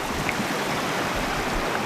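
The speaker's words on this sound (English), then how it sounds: "It's crystal clear glacial river, and we just desecrated it." A crystal clear glacial river in New Zealand flows with a soft, even rushing babble at low level, continuous and without voices.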